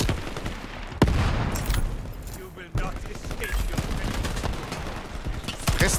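Rapid bursts of gunfire in the shooter game Shatterline crack and rattle over several seconds, with a voice talking at points alongside the shooting.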